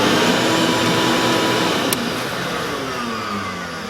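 A shop vac and a miter saw switched on together from one power strip give a loud, steady broadband roar that holds for the whole stretch, with a faint click partway through and a slight settling of the level afterward.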